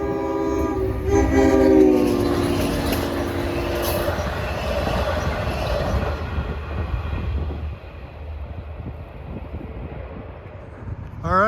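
A short three-car Long Island Rail Road train, number 42 from Penn Station to Speonk on the Montauk Branch east of Babylon, sounds a loud horn in its first seconds, then rumbles past close by before the noise eases.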